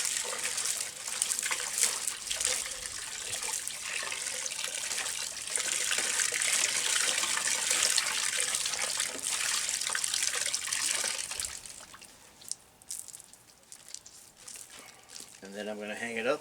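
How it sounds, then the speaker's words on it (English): Water gushes and splashes steadily as wet furs are wrung out after a soak in a relaxing bath during hide tanning, the pouring loud and continuous before tapering to sparse drips, with a voice speaking near the end. "Now I'm going to wring these out, get a lot of that relaxing bath out of the fur."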